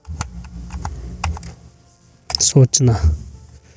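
A computer keyboard clicks out a short burst of quick, close keystrokes while a word is typed, followed by someone speaking briefly.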